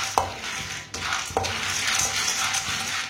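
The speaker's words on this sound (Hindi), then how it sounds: "इसे चम्मच चलाते हुए पकाना।" Flaxseed mixture being dry-roasted in a pan for Punjabi alsi pinni, a spoon stirring and scraping through it continuously with a few sharper clinks against the pan, close and fairly loud, no voices.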